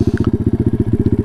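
A Taotao DB17 125 dirt bike with an upgraded carburetor revs close by, its engine pulsing in a fast, regular chugging beat that stays loud and even throughout.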